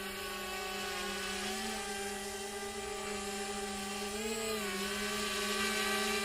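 An XK X450 drone flies in quadcopter mode outdoors in wind, giving a steady high-pitched propeller whine that holds constant with a slight pitch wobble, moderately loud throughout with no talking.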